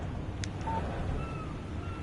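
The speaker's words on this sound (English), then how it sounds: "Text message from Barry" A faint, brief electronic text-message alert in the Alan Wake video game sounds once as a short tone, followed by soft higher beeps over a low background hum.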